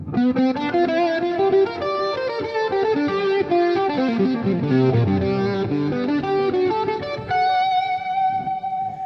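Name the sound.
electric guitar lead, upstroke picking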